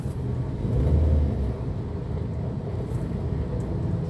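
Rainy-day traffic on Rosario Ortigas: a dense, even rumble of vehicles that swells briefly early on, then settles into a constant low drone with no talking.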